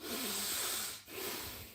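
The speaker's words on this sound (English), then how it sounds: "And also important is to not to do chest breathing. Chest breathing means like this." A single chest-breathing demonstration: a quiet, airy inhale followed by a short pause and an exhale, close to the microphone with no talking.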